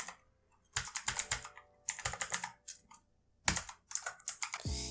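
A password is typed on a computer keyboard in quick, close bursts of crisp key clicks, separated by short pauses, with no talking over it.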